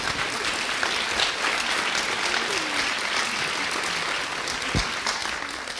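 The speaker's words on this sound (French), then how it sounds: "Alors je vous demande de l'applaudir parce que Geneviève Larocque" Sustained applause from a large crowd, steady and dense clapping filling the whole stretch without pause.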